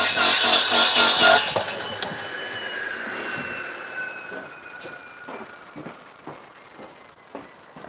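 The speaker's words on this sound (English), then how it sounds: "I was just demonstrating how much faster it was using the DeWalt radial arm saw" A DeWalt radial arm saw cuts through scrap wood with a loud, harsh burst for about a second and a half, then the blade whines down steadily while faint knocks and clatter follow.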